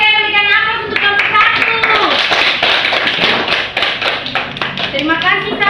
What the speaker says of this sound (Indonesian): berikan aplaus untuk kelompok